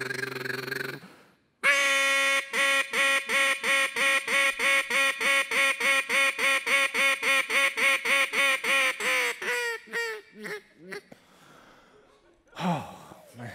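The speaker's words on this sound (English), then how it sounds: "You take one of these duck calls" A duck call is blown in a competition-style calling routine on stage: a long rapid run of about twenty evenly spaced loud quacks, followed by slower, tapering single quacks and a final raspy note, with no talk.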